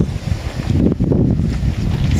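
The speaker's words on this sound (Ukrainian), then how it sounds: "Вітер у нас такий зараз. Вон, чуєте, як теплиці пленочкою б'є." Strong wind buffets a garden greenhouse and flaps its plastic film, producing a loud, continuous rumbling gust with irregular slapping bursts, and no one speaks.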